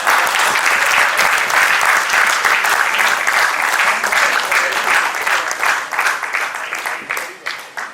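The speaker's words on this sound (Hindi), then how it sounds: "अब आप ताली बजा सका।" An audience claps loudly through the closing session of a cultural ceremony, sustained dense applause that holds strong before tapering slightly near the end.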